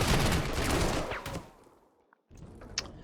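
Artillery strikes in the wartime strategy game Panzer Corps 2 land as loud, dense booming blasts that fade out, followed after a short gap by a softer burst of impact noise.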